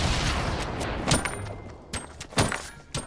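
Video game combat with a run of sharp blasts and bursts of gunfire, thumping hits around 1.1, 2.0 and 2.4 seconds over a dense, continuous background of battle noise.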